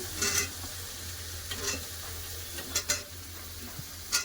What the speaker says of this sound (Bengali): আলুটা আগে ভেজে নেবো